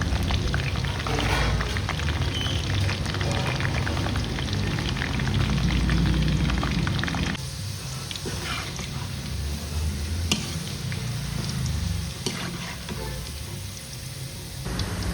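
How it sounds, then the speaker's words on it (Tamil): Homemade spicy finger chips fry in hot oil, giving a steady, dense sizzle and crackle throughout, close and continuous, easing slightly partway through. "பாருங்க, நல்லா ஃப்ரை ஆயிடுச்சு. இன்னும் கொஞ்சம் வேகணும்."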